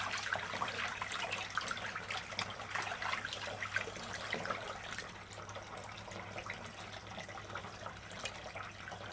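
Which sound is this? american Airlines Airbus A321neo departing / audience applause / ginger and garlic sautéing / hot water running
hot water running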